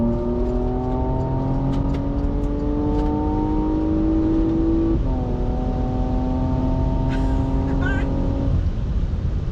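A 2016 Porsche Macan GTS with PDK gearbox accelerates hard in sport mode, its engine note climbing steadily, dropping at a gearshift, then rising again, loud and close from inside the cabin with occasional speech over it.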